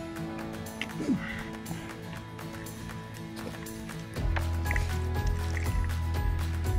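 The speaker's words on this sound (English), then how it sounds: "it's got to be filtered from a dirty bottle, clean bottle, filter" Stream water pours and trickles as it is filtered from a dirty bottle into a clean one on a Pacific Crest Trail hike, a close, steady liquid running with drips, joined partway by a louder continuous flow.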